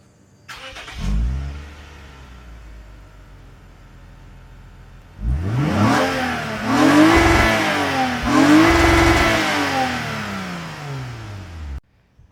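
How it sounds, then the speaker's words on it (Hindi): A Lexus IS250 starts with a brief crank and catch, idles, then revs repeatedly, climbing to the rev limiter in several rising and falling sweeps before the engine cuts off; loud and close, with no talk. "तो गाइज़ ये रहा बेसिकली इस गाड़ी का स्टार्टअप साउंड।"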